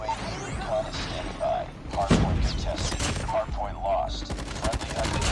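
Galil CR-56 AMAX assault rifle firing in Call of Duty Mobile: fast, loud automatic bursts that run almost continuously, mixed with clattering game effects and thuds.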